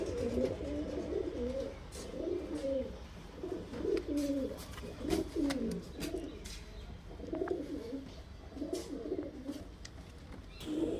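Madrasi highflyer pigeons coo repeatedly in soft, rolling phrases close by, one call after another over a low background hum, with faint chirps mixed in.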